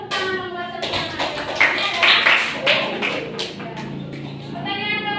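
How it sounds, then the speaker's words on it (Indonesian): A class claps together during a mathematics lesson on integer exponents, sounding as brisk, uneven clapping mixed with overlapping children's voices for about five seconds. "Semuanya tepuk tangan buat semuanya."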